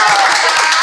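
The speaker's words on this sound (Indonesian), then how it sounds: "Tepuk tangan." Hands clapping in a school podcast setting at SMK Negeri 5 Kota Bengkulu, a short burst of dense, close applause-like patter lasting under a second.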